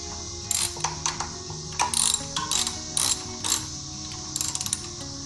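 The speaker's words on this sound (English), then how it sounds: "We're going to tighten that pinch bolt now." A ratchet clicks in short rapid bursts while tightening the rear wheel pinch bolt on a Royal Enfield Himalayan motorcycle during a tire change, close and loud against a quiet workshop hum.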